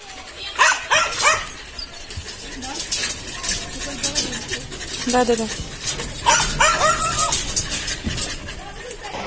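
Dogs at a rural dog shelter bark in short bursts and whine with high pitched whimpers, close by, while a person speaks briefly among them.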